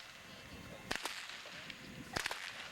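Two sharp whip cracks, spaced about a second apart, snap out over a faint background hiss, each a brief loud transient with no voices around it.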